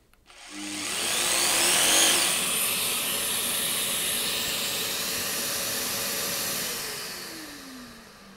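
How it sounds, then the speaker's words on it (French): Festool ISC 240 cordless insulation saw started with its connected dust extractor: a vacuum motor whooshes up to a loud steady roar, holds, then begins to wind down near the end, with no talk. "j'appuie simplement sur le bouton de connexion de l'aspirateur et je démarre une fois ma machine"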